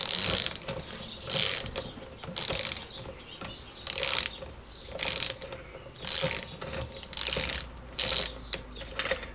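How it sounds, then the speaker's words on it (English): A ratchet is worked in repeated clicking bursts, about eight spaced strokes, while tightening the front drum brakes on a classic Fiat 500. The close, crisp pawl clicks come with quiet pauses between strokes. "we will get our ratchet and we'll start doing this up."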